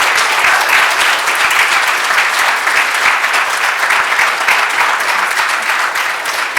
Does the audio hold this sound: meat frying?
no